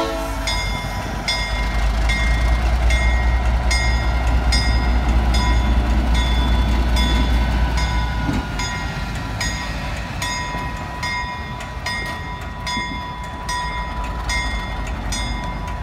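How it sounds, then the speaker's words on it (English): A freight locomotive of the FWRY moves back onto the track during switching at a Santa Paula street crossing, with a loud, steady engine rumble close by and a regular pattern of crossing bell dings throughout. "I just wait for the locomotive to go back to the track"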